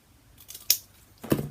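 Two quick scissor snips through paper for a puppet princess craft, one crisp cut followed by a second longer one, close and clear in a quiet room.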